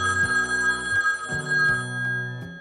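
Telephone ringing in a steady repeating pattern of electronic rings, close and clear with no voices.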